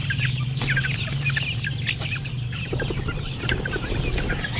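Newly hatched chicks peep busily while feeding in a range area, a dense chorus of high chirps close by over a steady low hum, with no talk.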